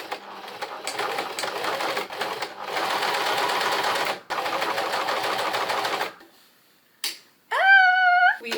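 A sewing machine runs in steady, rapid bursts with a few brief pauses, then stops; a couple of short electronic chirps follow.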